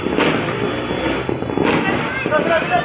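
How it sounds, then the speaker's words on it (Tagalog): New Year fireworks crackle and thump through a crowded scene, with loud bursts around the start and middle and people talking and shouting throughout. "Fireworks!"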